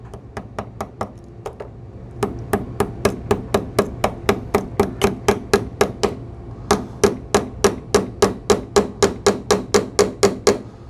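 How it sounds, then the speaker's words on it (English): Steady hammer blows drive a nail held in needle-nose pliers while making a woven bead bracelet, a long run of sharp close knocks in even rhythm, with a short pause partway through before the striking resumes. "I use the needle nose pliers to hold the nail in place while I hammer it"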